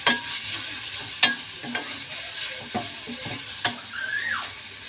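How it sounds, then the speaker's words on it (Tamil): Grated raw mango and carrot sautéed in a pan for kids' mango rice: a steady sizzle punctuated by several distinct spatula strokes and scrapes, with a short squeak near the end. "துருவின மாங்காய், கேரட் போட்டு"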